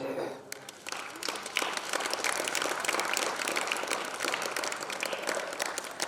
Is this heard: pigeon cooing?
no